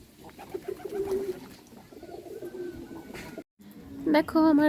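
Pigeons coo in low, throaty bursts close by, while a person speaks briefly over them.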